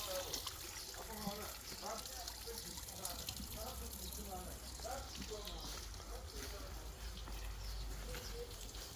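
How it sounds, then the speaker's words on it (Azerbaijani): Cold spring water at Vendam village in Qabala district flows continuously in a soft, steady trickle, faint and close, with quiet chirps and a low background hum. "Suda bulaqdan gəlir, buz kimi."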